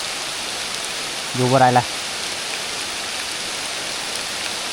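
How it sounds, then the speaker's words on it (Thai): Steady rain falling outdoors, a soft even hiss throughout, briefly overlapped by a short burst of a voice speaking. "ฝนตกแล้วทุกคนบ้านนี้"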